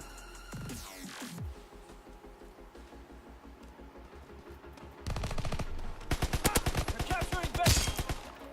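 Grease Gun submachine gun firing in Call of Duty WW2 multiplayer, a steady rapid-fire rattle of many evenly spaced shots followed by a louder, denser burst of gunfire, with game sounds and faint talk mixed in.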